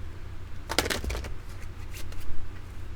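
Tarot cards being shuffled in a short rustling, riffling burst partway through, close and fairly loud, then quieter soft card handling over a faint background.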